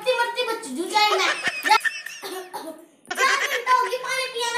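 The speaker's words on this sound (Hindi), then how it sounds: "खांसी का मारे मरी" An elderly woman coughs in a Haryanvi comedy sketch, a harsh burst of close coughs in the middle set between stretches of loud talking.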